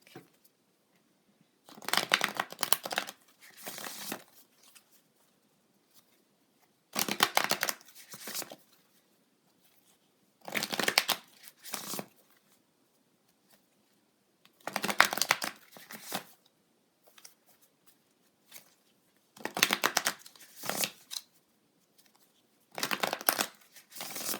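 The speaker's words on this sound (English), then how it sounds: "I'm going to pull a card from my moon deck" A tarot deck being shuffled in repeated bursts of quick, crisp riffling and card slaps, close up, with short silent pauses between each round.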